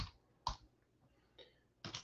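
Quiet keystrokes on a computer keyboard, a few sharp separate clicks and a quick double tap near the end, close to the mic against a near-silent room.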